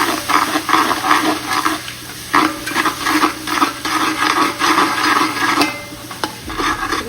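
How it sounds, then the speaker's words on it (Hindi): Garlic, ginger and chili garlic paste fry in a pot with a bright continuous sizzle, broken by repeated stirring scrapes and clinks, close and loud with no talking. "चिली गार्लिक पेस्ट डाल के थोड़ा सा इसको फ्राई करेंगे"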